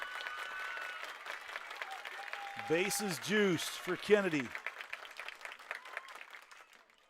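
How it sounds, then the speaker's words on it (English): Spectators at a high school regional final softball game clap in a steady patter. The crowd sits in the background beneath a commentator's voice, which stays on top throughout. "with the crowd clapping right now"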